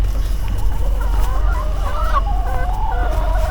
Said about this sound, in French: Donc voilà, les pondeuses.